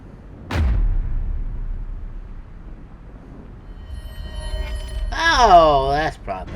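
A firework boom in the video game AI: The Somnium Files: one sharp, deep explosion early on followed by a rumbling tail, then a rising, warbling whistle-like tone near the end.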